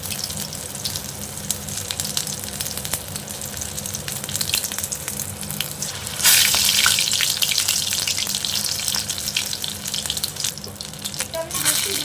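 Stuffed tomatoes for tomato dorma sizzle steadily in hot oil in a pan, a continuous close frying hiss that swells louder partway through as more are set in.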